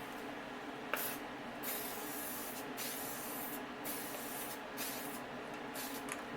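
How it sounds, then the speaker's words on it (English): Rust-Oleum spray paint hissing from a professional sprayer nozzle during a 1984 Nissan 4x4 repair, a steady close spray broken into several bursts with brief gaps between them, no talking. "This is the Rust-Oleum with this professional sprayer nozzle."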